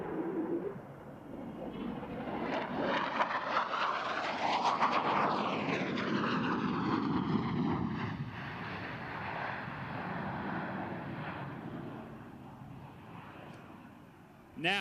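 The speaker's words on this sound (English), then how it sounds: "From your right, the F-16 and the knife edge pass." F-16 fighter jet making a knife edge pass at the NAS Oceana air show, its roar building to a loud peak as it sweeps by with a falling Doppler whine, then fading into the distance.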